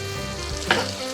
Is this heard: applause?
no